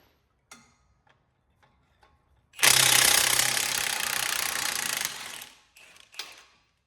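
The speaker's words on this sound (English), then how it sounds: "I'm just using a Milwaukee gun with a wobbly impact socket there and a 21mm socket." A Milwaukee impact gun fitted with a wobbly impact socket and a 21mm socket undoes the rear caliper bolts on a Vauxhall Insignia's front brakes: one loud, close hammering burst lasting a couple of seconds, framed by scattered faint clicks and clatter.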